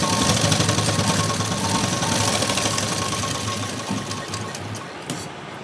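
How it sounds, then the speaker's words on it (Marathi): A sewing machine stitching fabric for a decorative latkan, a loud close motor whir with a rapid steady needle rhythm that holds for several seconds and then tapers off as it slows to a stop. "आता इथे आपण अशी शिलाई देऊन घेऊ।"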